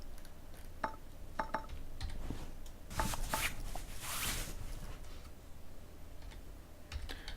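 Faint, sparse clicks of a computer keyboard being typed on during play of the Car Mechanic 2015 game, short irregular taps over a quiet low hum, a slightly louder flurry midway.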